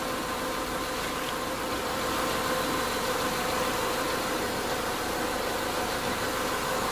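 A hot car engine idling, with a steady, dense mid-range hum and rumble that holds unchanged throughout and has no voices.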